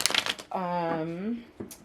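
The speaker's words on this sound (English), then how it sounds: "while I'm getting your cards all shuffled up" Tarot cards being shuffled make a short burst of crisp riffling and snapping at the start, followed by a sustained spoken voice, then one more brief card rustle.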